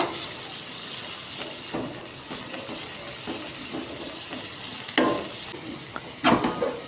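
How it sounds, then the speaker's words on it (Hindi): Minced beef keema fries on a flat tawa, crackling and sizzling steadily at close range, with intermittent scraping and stirring strokes of a spatula and a few louder clatters. "अभी कीमे को हमने अच्छी तरह से इस पर फ्राई कर लेना है"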